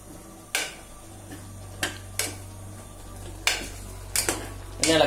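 A spoon clinks and scrapes against a pan while chicken masala is stirred, sharp metallic knocks arriving in an irregular handful over a low steady hum, with no voices.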